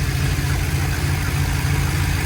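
A Chevrolet Colorado truck engine, recently upgraded with more boost, runs with a dense, steady low rumble heard from close range behind the vehicle, loud and continuous with no talk.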